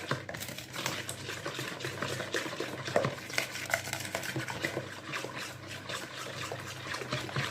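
A semolina mixture for basbousa is stirred continuously in a bowl, giving a close, busy rhythm of wet scraping and swishing strokes that runs throughout without talk.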